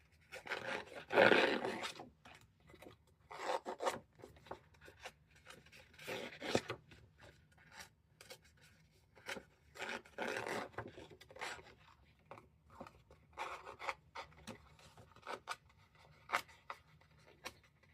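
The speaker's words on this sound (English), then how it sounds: "once I smooth it down with my sander" Irregular rubbing and scuffing strokes of an electric sander smoothing a paper tag, close and moderately loud, in uneven bursts separated by short pauses.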